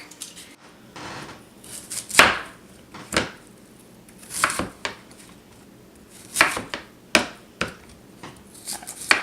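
Knife chopping vegetables on a board while preparing vegan kimchi, with a series of irregular, crisp close-up strikes separated by brief pauses of quieter handling.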